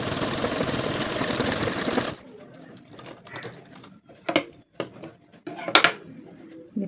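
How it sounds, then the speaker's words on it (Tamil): Sewing machine running steadily as it stitches blouse fabric, a loud continuous whir for about two seconds that then stops, followed by scattered handling clicks and rustles. "இதில் ஒட்டி ஒரு தையல் போட்டுக்கோங்க."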